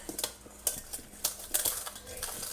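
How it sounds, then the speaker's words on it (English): Seasoned potato wedges with paprika tossed in a bowl for wedge fries, giving a run of quick, close clicks and knocks, alone. "Alright, so just mix it up."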